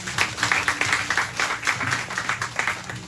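Applause at a funeral ceremony for a woman in Duranthon, a congregation clapping steadily in an uneven rhythm, moderately loud and close throughout, with faint voices beneath.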